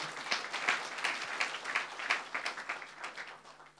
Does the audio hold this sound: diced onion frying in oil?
no